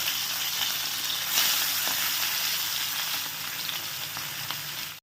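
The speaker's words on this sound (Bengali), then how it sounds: "তো আগে মাছটা আগে ভেজে নিই" Fish frying in olive oil in a pan, a dense, even sizzle that holds steady and fairly loud close up, swelling slightly partway through before cutting off.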